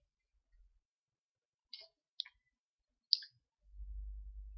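A computer mouse clicks a few times during ZBrush software work: three brief, quiet, isolated clicks spaced about a second apart in near silence, followed by a low rumble.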